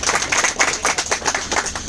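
Audience applause at a product seminar in Ahmedabad, a dense stretch of many hands clapping in a steady rapid patter, fairly loud and close, with no clear voices over it.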